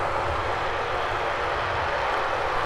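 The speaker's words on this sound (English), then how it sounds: "That C-130's revving up those props." A Lockheed C-130 Hercules runs up its propeller engines at a snowy Minneapolis airport, a steady broadband roar with a low droning hum, constant and moderately distant.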